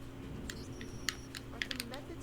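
A cat stepping across a computer keyboard, giving a few scattered, irregular key clicks at close range over a steady low hum of background noise.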